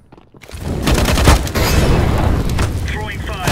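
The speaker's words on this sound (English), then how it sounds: "Throwing flashbang." A flashbang grenade detonating in the game CS:GO, a sharp loud bang followed by sustained booming and crackling gunfire, with a voice speaking partway through the blast.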